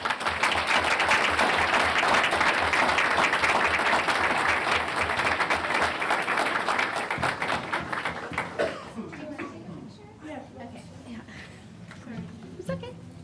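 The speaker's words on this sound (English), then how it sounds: "If we could give her a round of applause." An audience at a school board meeting gives a student a round of applause, dense and loud for about eight seconds before fading into scattered claps, murmurs and talking.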